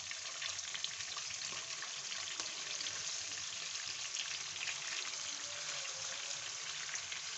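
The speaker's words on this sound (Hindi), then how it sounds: "ये देखें जी, फ़िश फ्राई होना शुरू हो गई है जी।" Fish frying in a pan of hot oil makes a steady, dense sizzle with fine crackling spitting throughout, close and continuous with no talking.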